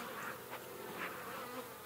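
Honeybees buzz around a horizontal beehive, a faint, soft hum with a few louder passes as individual bees fly close, no voices.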